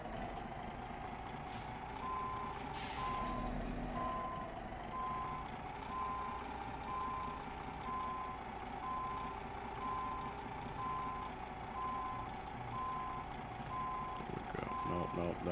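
A short truck reverses in Euro Truck Simulator 2, its backup alarm sounding a steady, evenly spaced run of beeps over a low engine rumble, with a brief air-brake hiss early on and a voice speaking intermittently.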